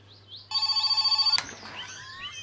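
Telephone ringing in the video game My Summer Car: a loud, rapidly trilling electric bell lasting under a second that cuts off abruptly, with faint chirping and a low hum around it.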